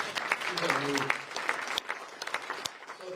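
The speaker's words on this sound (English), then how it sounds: "Let's give her a round of applause" Applause from an audience at a State of the City address, greeting a newly introduced school board member: moderate clapping from a modest crowd with individual claps audible, plus some speech and cheering over it.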